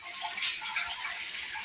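A motor pump fills a cleaned 150-gallon water tank at a village home, a steady hissing rush of water without pause, faint and even throughout.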